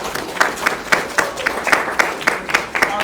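An audience at a first-time Halloween jam event applauds steadily, with many hands clapping in a dense, continuous patter that carries at moderate volume and has no voices over it.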